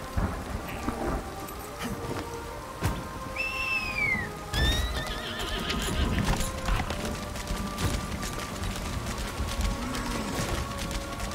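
Horse in the game Lost Ark giving a clear, brief whinny set against rain and rumbling thunder, with faint scattered hoof thuds and no voices.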